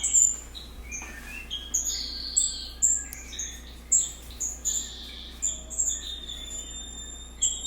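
Twinspot finches in an aviary give repeated high, thin chirps and short tweets at an irregular pace, moderately close over a quiet low background hum, with no voices.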